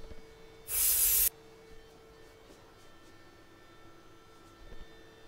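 A single loud burst of spray paint in the VR game Unnamed VR hisses for about half a second, then stops, leaving a quiet electrical hum.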